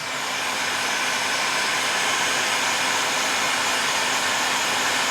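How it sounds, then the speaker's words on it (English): A heat gun blows steadily over wooden lettering for a rustic wedding decoration, a loud, close, continuous rushing hiss with a faint steady hum underneath and no pauses. "heat gun."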